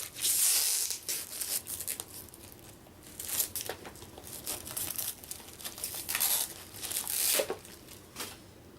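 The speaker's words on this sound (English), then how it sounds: "the plastic coating on here is kind of garbage, so sometimes these are pretty hard to open." Plastic-coated packaging of a 2014 University Games dice game being torn open, with repeated crinkling rips and crunches in short bursts, fairly close and moderately loud, with no talking.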